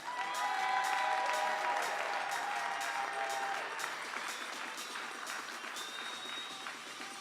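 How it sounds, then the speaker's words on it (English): Audience applause at a junior women's air rifle final of a European Championship, steady clapping from a hall crowd that fades slightly toward the end, with a few brief louder claps standing out. "Give a round of applause, please, to Jeanette Dursta."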